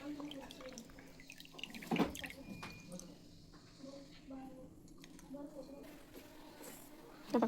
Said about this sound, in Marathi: बघा गाळून घ्यायचं असं, जेणेकरून त्याच्यामध्ये बिया राहतात ते येतात बघा.